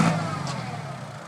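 Tractor engine revving hard while the machine sits bogged down in clay mud, a loud, steady mechanical roar with no voices over it.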